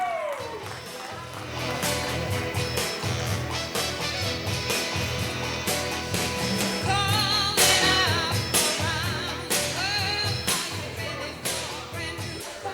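Guests at a wedding reception applaud Hayley's stepfather, with dense clapping spread through the room over music, lasting well over ten seconds at a steady level.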